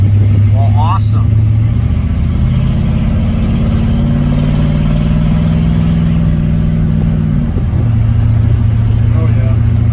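A 1968 Pontiac Tempest engine heard from inside on a ride, a loud, constant low drone that shifts pitch as it revs up and settles back down, with a brief voice near the start.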